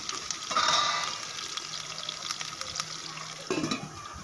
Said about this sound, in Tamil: கொஞ்ச நேரம் இது வதங்கட்டும்.